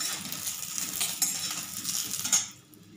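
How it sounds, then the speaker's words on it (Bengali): Kul (jujube) pickle being stirred with salt in a pan, giving a steady scraping, sizzling stir with a couple of sharper utensil clinks, fairly close and alone before fading out at the end. "নুন দিয়ে আবার নাড়তে আরম্ভ করলাম"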